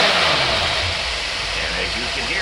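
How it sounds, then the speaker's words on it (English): A car engine fitted with a Carter AFB carburetor revs freely out of gear at full throttle, a loud, sustained roar that shifts in pitch near the end, with a voice talking faintly underneath. "It will be basically free revving to check for full throttle operation."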